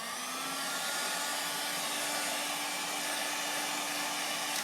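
Heat gun warming vinyl wrap on a car mirror cover, a steady airy blowing hiss with a faint whine, constant and close, with no talking.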